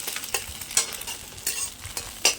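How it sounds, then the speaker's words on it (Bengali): Beaten eggs frying and being scrambled in a pan with a spatula, a soft steady sizzle broken by several sharp scraping strokes against the pan, with no voices. "আমি ডিমটা ভুজিয়া বানিয়ে নিই।"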